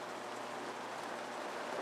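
Steady rain pattering down around an outdoor hot tub in Breckenridge, a dense even hiss with no breaks, fairly close and moderately loud.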